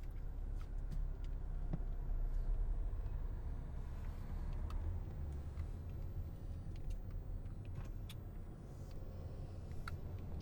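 A steady, low engine rumble of cars and a bus driving along a road in Positano, Italy, with faint ticks and no talking.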